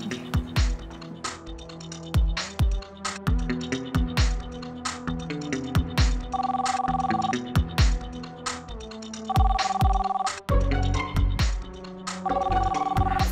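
A telephone rings repeatedly with a bright electronic ringtone, its bursts standing out over a busy music background with percussive hits throughout.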